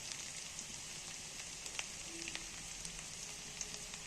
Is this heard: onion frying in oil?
yes